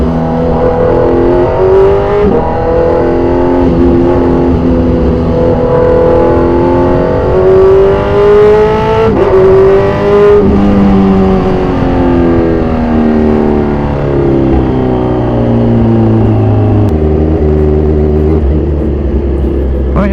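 A black, fully modified 2014 Kawasaki Z1000 Sugomi motorcycle with a loud aftermarket exhaust revs hard and close, the engine note climbing and falling in sustained throttle blips for about twenty seconds.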